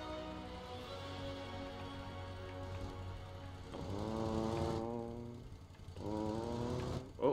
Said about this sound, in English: I'm off mowing the lawn.